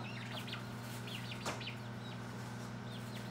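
Chickens cluck softly nearby over a steady low hum, with a brief sharp knock partway through.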